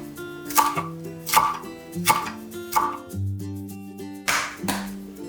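A knife thinly julienning chili peppers on a cutting board makes sharp, evenly spaced chops, about six loud close strikes with brief pauses and faint background music.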